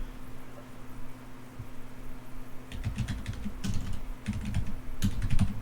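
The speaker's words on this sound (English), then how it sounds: "So for example, I can just type in" Computer keyboard typing begins after a quiet stretch, with bursts of quick key clicks entering a node search in the Unreal blueprint editor, close and crisp over a low steady hum.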